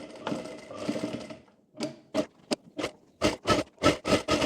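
A sewing machine stitches a frill onto a baby romper, starting with a longer continuous run, then a series of short, loud bursts of stitching, close up with no voices.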